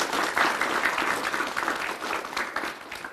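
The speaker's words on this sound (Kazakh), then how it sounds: "Шапалақ, қошеметлер." Audience applause at a comedy show, a dense, steady wash of many hands clapping close by that holds loud and even for about three seconds with no talk over it.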